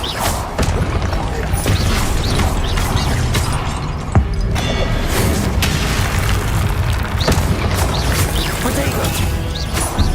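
Loud, dense spell effects from Hogwarts Legacy gameplay, an Incendio fire spell bursting amid repeated booms, crashes and whooshes, with several sharp impacts across a continuous roar.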